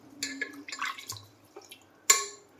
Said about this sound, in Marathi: हे तांदूळ डाळ स्वच्छ धुवून घेणार आहे पाण्याने